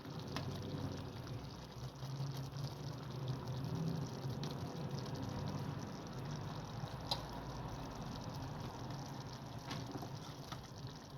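A steady stream of hot water pouring from a kettle and splashing into a container of noodles, with a low continuous rush and a few faint clinks.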